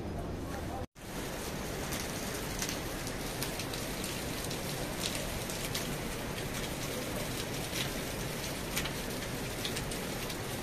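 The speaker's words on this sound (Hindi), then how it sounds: "रात भर बारिश थी, अभी भी बारिश हो रही है" Steady early-morning rain on a mountain trek to Shree Madhymaheshwar, a constant close hiss of drops on surfaces with occasional louder drips, continuing without pause.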